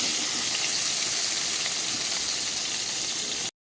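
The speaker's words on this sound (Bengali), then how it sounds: "আর এই যে মাছটা ভাজা হবে, মাছটা ভাজা বসবে।" Fish frying in a pan makes a steady, loud, hissing sizzle close by, continuous without pause until it stops abruptly.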